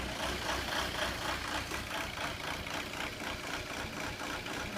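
A 2002 VW Jetta TDI diesel engine idles roughly with a quantity-injection fault, giving a steady close-up rumble that pulses slightly unevenly as the revs drift up and down.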